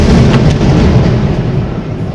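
Diwali firecrackers burst around a high vantage point, making a dense rumbling roar of overlapping blasts that slowly fades.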